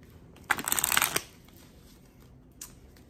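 A deck of tarot cards being shuffled close by, a quick riffling burst of papery flutter lasting under a second, then near quiet with a faint later flick.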